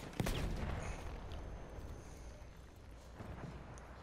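A grenade blast in Battlefield 1 lands close by as a sharp burst early on, followed by a low rumbling battlefield din with scattered distant pops and debris noise throughout.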